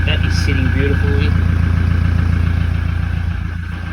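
A Toyota N80 Hilux with a PPD exhaust idles close by with a steady, deep low rumble, while someone talks briefly over the start before the engine note carries on alone.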